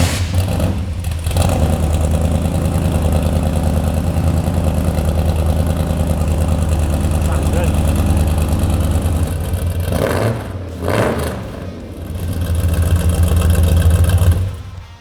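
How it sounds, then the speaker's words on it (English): A 1975 Dodge Ramcharger's engine runs loud and steady at close range, holding a rough, throaty idle with one brief dip partway through before swelling again in a short rev. "Turn it on. Oh yeah, let's start it up."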